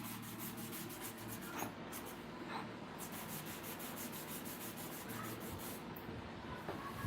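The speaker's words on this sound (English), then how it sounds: "We now change the stone surface for effective sharpening." An old, rusted clipper blade is rubbed back and forth on a sharpening stone, giving a quiet, continuous gritty scraping with a few faint strokes standing out, heard alone without speech.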